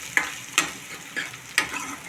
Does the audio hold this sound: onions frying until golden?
yes